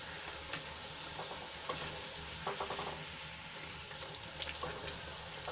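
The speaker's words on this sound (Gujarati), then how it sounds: "થોડી જ વારમાં પૂરી આપણી તળાઈને ઉપર આવી ગઈ છે" Steady sizzling of bajra-methi puri deep-frying in hot oil, with light bubbling and occasional soft clinks throughout.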